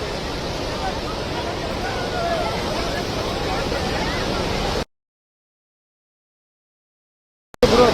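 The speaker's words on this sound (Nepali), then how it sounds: "खोला कत्रो आयो है" A flooded Nepali river rushes with a loud, dense roar for nearly five seconds, then cuts to silence before the torrent briefly returns at the end.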